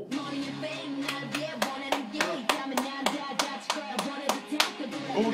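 Hand claps in a music video, a steady train of sharp, evenly spaced claps about every half second over a music backing, with a voice heard alongside.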